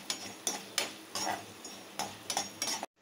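Dried manathakkali berries are stirred in a pan in short scraping strokes with clinks of a spoon against metal, about eight uneven bursts over a faint sizzle before the sound cuts off abruptly.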